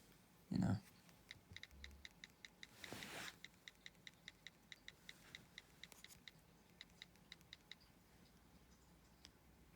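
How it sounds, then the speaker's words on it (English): Soft keyboard click sounds from a first-generation iPod touch running Whited00r 7.1, a steady series of faint, evenly spaced ticks after a brief louder bump, with a short breath-like noise near the start. "It's got the keyboard sounds and everything"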